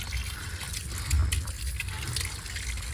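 Water runs from a garden pipe outdoors, a steady, quiet gushing and splashing that goes on without a break, with faint background noise and no clear talk.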